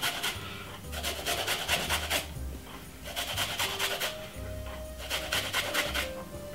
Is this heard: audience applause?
no